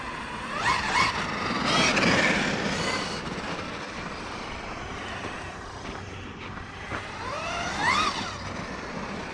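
HPI Savage X Flux short-wheelbase electric RC truck driving on slippery ground, a whining motor rising and falling with several high-pitched revs, heard at moderate distance.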